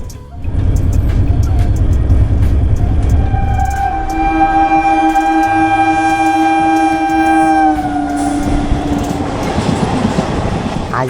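A double-decker train rolls from Coimbatore toward Bangalore with a loud, steady rumble of wheels on track and a sustained horn blast in the middle, heard close and continuous throughout.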